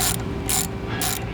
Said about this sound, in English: That is a 7/16 socket.